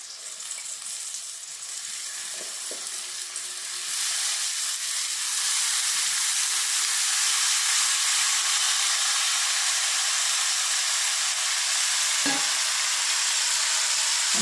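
Chopped lemons frying in a pan for Kerala curry lemon pickle, a steady close sizzle and hiss that swells louder partway through, with occasional stirring scrapes and no talk.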